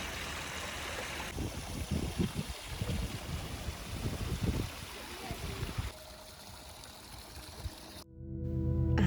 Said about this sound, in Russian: И вот там еще вот такие вот маленькие водопадики.